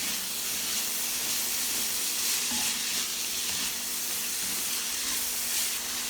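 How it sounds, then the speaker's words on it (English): Loud, steady sizzling and hissing from cabbage and bean sprouts stir-frying over high heat in a hot pan, with occasional faint clinks of stirring, continuous with no talking. "Stir-fry quickly over high heat, stirring evenly until just tender."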